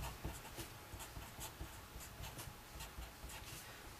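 A pen scratches out an equation on paper or a board, close and fairly quiet, with short rhythmic strokes and taps over a steady background hiss.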